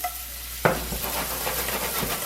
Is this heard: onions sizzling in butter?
yes